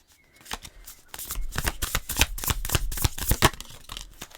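Tarot cards are riffled and shuffled by hand, a close, loud run of quick papery flutters and slaps, faint at first and then building into a dense rapid sequence.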